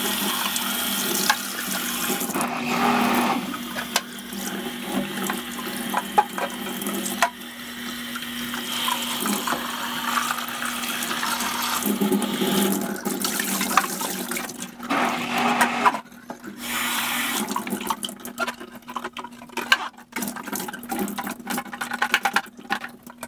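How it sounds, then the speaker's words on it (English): Water sprays and splashes inside the tank of a Hoover carpet shampooer as it is rinsed out, a continuous hissing, gushing stream that shifts in tone with brief pauses and sloshing, close by and with no talk. "spray some water inside here and try to rinse it around and clean it out"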